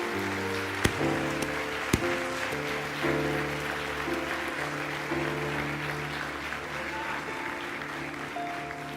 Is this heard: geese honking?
no